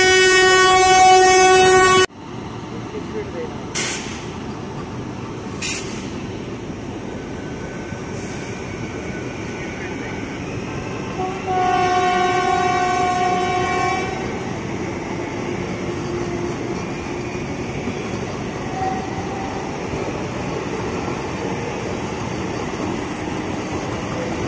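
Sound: Vande Bharat Express trains racing past

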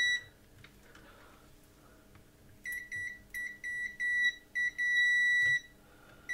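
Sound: multimeter continuity tester beeping on an Atari 130XE board

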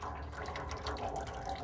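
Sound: pouring meat juice from aluminum foil into water pan

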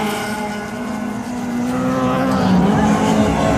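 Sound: race cars speeding on a supercross track

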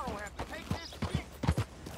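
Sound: stagecoach horses' hooves in the video game Red Dead Redemption 2

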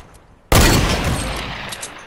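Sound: gunfire in Fortnite video game

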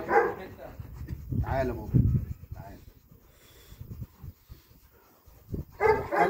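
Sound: dog whimpering and barking

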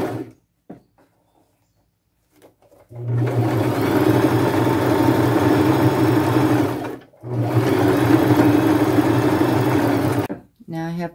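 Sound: sewing machine zigzag stitching trim onto a bag

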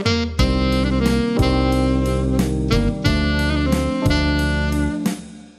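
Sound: melody phrase played with turn embellishments

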